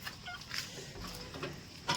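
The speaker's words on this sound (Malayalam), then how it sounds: "ഇതാണ് എൻ്റെ സൺഡേ കോഴി." A rooster, one of the fighting birds kept in a coop in the Valparai hills, gives faint, brief clucks and calls against a low outdoor background.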